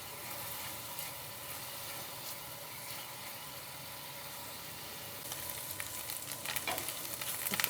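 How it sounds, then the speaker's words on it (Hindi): Grated ginger frying in about two spoons of oil in a pan while making samosa filling, a faint steady sizzle that grows a little louder and crackly near the end, with no talking. "सबसे पहले इसमें अदरक डालेंगे जो ग्रेट किया हुआ है।"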